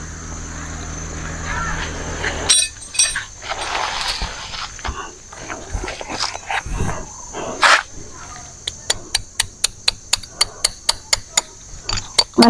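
Tent stakes hammered into the ground while pitching a tent: after a stretch of rustling and handling noise, a series of sharp, evenly spaced knocks rings out, close and loud, about a dozen blows in steady rhythm.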